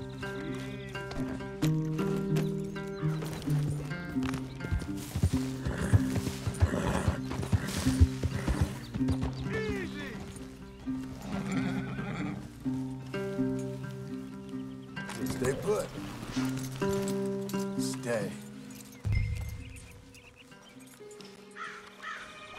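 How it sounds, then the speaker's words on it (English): Horses from Red Dead Redemption clop and whinny in an outdoor game scene near trees, hooves steady under continuous music and other game ambience, with crow caws mixed in. "Leave the horses in the trees there."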